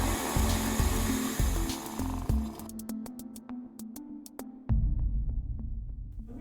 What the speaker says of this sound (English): In the demonstration, the grinder is set for espresso coffee.